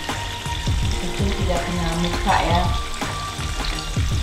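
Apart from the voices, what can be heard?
fish frying in splattering hot oil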